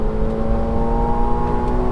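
A McLaren 750S twin-turbo V8 supercar of 2024, rated at 552 kW, pulling hard on a race track, its engine a loud, steady rising drone with strong tonal harmonics heard from inside the car.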